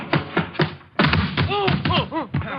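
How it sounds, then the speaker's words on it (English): A body tackle in an old radio detective drama lands as a couple of heavy thuds and a scuffle, close and loud, followed by grunting and speaking voices. "that was a pretty nifty tackle, Diamond"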